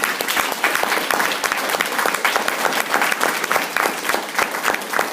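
Audience applause for a disabilities panel, loud, dense clapping from a crowd with distinct sharp claps standing out, sustained evenly throughout.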